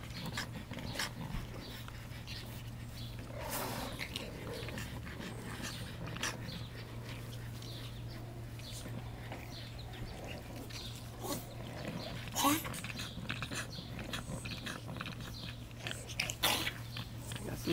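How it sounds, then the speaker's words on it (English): Dogs play fighting in a yard, with scattered soft growls, panting, yips and scuffling bursts spread over a steady low hum, fairly faint and heard without nearby talking. "Dog fighting going on."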